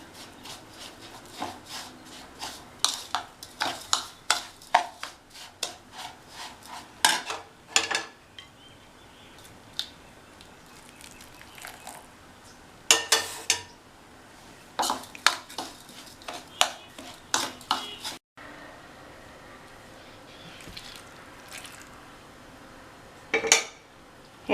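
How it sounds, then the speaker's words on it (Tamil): Spoon scraping and clinking against a metal vessel while ground aval rava is stirred with boiled water, giving irregular close taps and scrapes in bursts with short pauses, no voices. "கொதிக்க வச்ச தண்ணியை கொஞ்சம் கொஞ்சமாக சேர்த்து"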